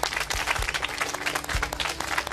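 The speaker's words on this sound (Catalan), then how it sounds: "la rebem amb un fort aplaudiment" A studio audience gives a loud, sustained round of applause to welcome a guest onto a Catalan television show, dense clapping filling the whole stretch without pause.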